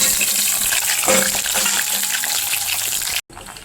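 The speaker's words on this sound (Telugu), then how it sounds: "ఇదిగోండి ఆయిల్ కాగిపోయింది ఇందులో కాకరకాయలు వేసేసుకోవాలి" Bitter gourds frying in hot oil in a home kitchen, a steady dense sizzle and crackle close up that holds for several seconds, then cuts out sharply.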